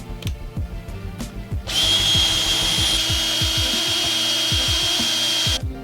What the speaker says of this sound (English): that's where we drill.